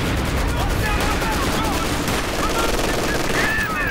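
Rapid machine gun bursts rattle nonstop in a Company of Heroes battle, overlapping with other gunfire and distant combat noise, loud and dense throughout.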